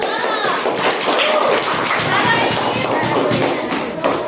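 Students in a classroom clap together, a fairly loud, close round of hand claps with scattered thumps and voices mixed in, sustained evenly across the stretch.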